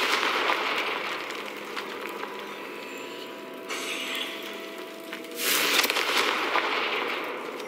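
Confringo blasting spells go off in Hogwarts Legacy combat, crackling bursts layered over a dense, busy game soundscape, with a sharper explosive surge near the end.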